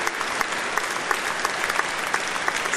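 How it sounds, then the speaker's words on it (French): Church audience applauds an association's tenth anniversary with a steady, dense burst of clapping lasting a few seconds, no voices over it. "Et franchement, on peut les applaudir vraiment,"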